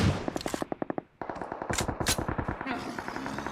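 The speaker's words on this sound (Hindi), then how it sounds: "फायर से इसे भी फिनिश करता हूँ।" Rapid bursts of automatic gunfire in a mobile battle royale shooter, with quick repeated shots, a brief pause, then another longer volley, loud and close with small impact sounds mixed in.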